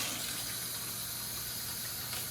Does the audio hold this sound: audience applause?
no